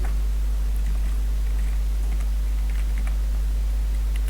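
Computer keyboard typing, light scattered key clicks at an irregular pace, faint beneath a loud constant low electrical hum, with no voices.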